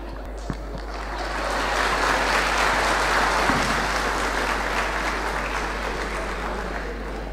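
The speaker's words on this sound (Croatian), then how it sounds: "Bravo, jedan aplauz." Concert audience in Banja Luka breaks into sustained applause for a piano performer, swelling after a second and holding as a full, even wash of clapping, with no voices over it.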